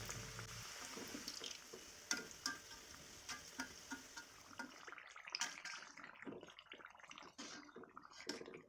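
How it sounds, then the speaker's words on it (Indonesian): Indonesian pastel pastries deep-frying in hot oil give a steady sizzle and bubbling, with occasional sharp clinks and scrapes from stirring that grow more sparse and distinct toward the end. "Goreng pastel selanjutnya sampai semuanya selesai."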